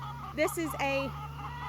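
Chickens in a new backyard pen of about 30 birds cluck and squawk in short bursts, close by, over a steady low electrical hum, with someone speaking briefly among them.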